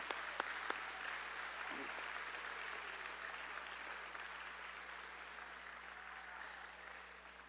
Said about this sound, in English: let's give the state degree recipients a big round of applause